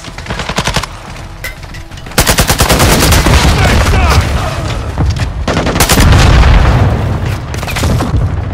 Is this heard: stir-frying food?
no